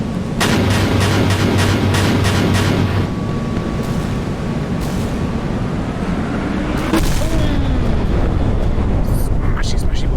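Missiles strike a warship and explode in the naval combat game Sea Power, a modern frigate battling Nanuchka missile corvettes: loud rolling booms and blasts thunder over a constant roar, with a sharp burst partway through.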